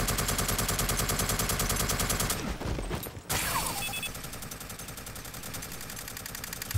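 Rapid automatic autocannon fire from the Aliens Fireteam Elite video game, a dense sustained burst of loud repeating shots with a brief pause midway before the firing resumes.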